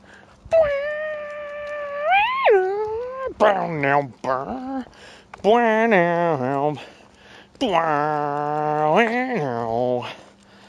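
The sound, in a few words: voice imitating growls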